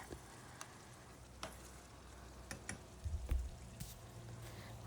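Tomato paste is stirred in a pan for chicken masala pasta, a faint continuous sizzle with soft scraping clicks from a spoon and a brief low thump partway through, with no talking.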